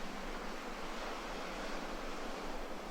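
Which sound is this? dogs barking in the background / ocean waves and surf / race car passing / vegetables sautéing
ocean waves and surf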